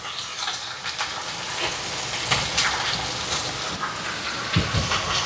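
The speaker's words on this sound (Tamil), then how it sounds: "தண்ணி கொஞ்சமாக சேர்க்குறேன்." Water poured into a cooking pan of sautéed onions and sliced plantain, a steady broadband hiss and sizzle running throughout with small crackles, close and continuous, no talking.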